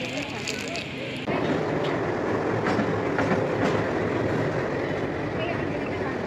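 A train at Haridwar railway station, its rolling rumble and clatter rising suddenly and continuing steadily, with people talking nearby.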